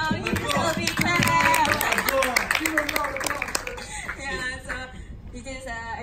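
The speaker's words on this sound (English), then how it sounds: "So give us a big clap." An audience claps and cheers for a student group's website presentation at a high school, with steady dense applause that thins toward the end as a voice begins speaking over it.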